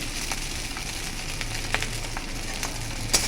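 Food deep-frying in a pan of oil gives a steady sizzle with scattered crackles and small pops, close and fairly quiet, with no talking.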